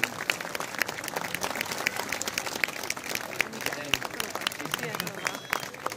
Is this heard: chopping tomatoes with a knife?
no